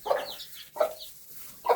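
A hen clucks three times in short, evenly spaced bursts, close and fairly clear against a quiet background.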